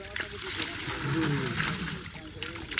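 Fish being poured from a container into a village pond, a sustained sloshing splash of water and flapping fish up close, with people talking and calling out over it outdoors.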